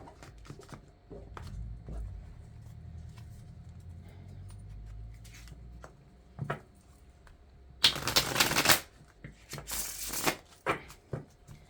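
A deck of tarot cards is shuffled by hand, soft riffling and tapping at first, then two loud bursts of crisp riffle shuffles close to the microphone.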